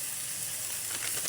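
Vinegar added to dinuguan in a hot pan, giving a steady, loud, broadband sizzle with no voices.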